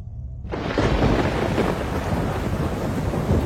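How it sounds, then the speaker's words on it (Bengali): A Kalbaishakhi thunderstorm on a spring afternoon in rural Bengal, with heavy rain and rumbling thunder bursting in after a brief quiet start, then staying loud and steady throughout. "বৈশাখ মাসের বিকেলে ভীষণ ঝড় বৃষ্টি শুরু"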